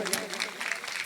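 An audience claps loudly and steadily throughout at a devotional Ramayana recitation gathering, a dense patter of many hands heard close by.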